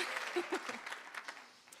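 Applause from the audience at a medal day ceremony honoring a cartoonist, a short burst of clapping fading out over the final moments, with a voice briefly audible over it.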